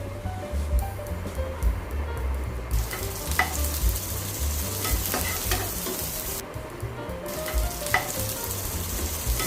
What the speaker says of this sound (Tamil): எண்ணெய் ஊற்றி அந்த எடுத்து வச்சுருக்க பீக்கங்காய் தோலை சேர்த்துக்கலாம். சேர்த்துட்டு நல்லா சாஃப்டாக வர வரைக்கும் வதக்கணும்.